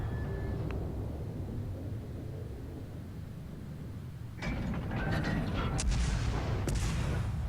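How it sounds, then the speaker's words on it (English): Naval guns of a Bogatyr Tier 3 Russian cruiser in World of Warships firing high-explosive shells: a steady low rumble, then from the midpoint a cluster of sharp booming shots and metallic clanks, loud and close, with no talking. "the descending shots with HE seem to do a good job."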